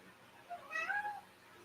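A cat gives one short, faint meow, rising then falling, in an otherwise quiet room. No one speaks over it.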